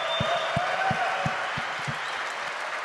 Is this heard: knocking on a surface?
no